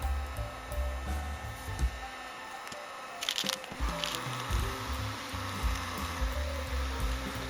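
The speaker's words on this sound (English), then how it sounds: "The heat gun is continually used to help each coat set up." A heat gun warms a freshly painted bracket with a steady blowing whir and motor hum, joined midway by brief clicks and shifting airflow, close and without speech.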